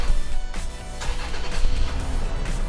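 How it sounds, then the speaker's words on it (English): A 2015 Toyota FJ Cruiser engine cranks and catches, then settles into a close, steady idle with a few uneven bursts over nearly three seconds, heard from inside the vehicle with no talking. "So for that, we have to start up the car."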